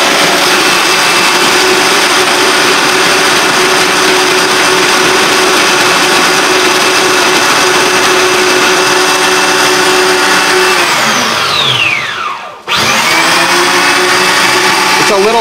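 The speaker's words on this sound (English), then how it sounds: "Then the blender starts blending while it's still shaving ice." A Margaritaville frozen margarita maker shaves ice and blends at once, a loud steady whirring grind with a rising motor whine that dips abruptly near the end before spinning back up.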